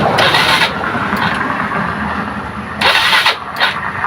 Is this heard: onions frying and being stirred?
no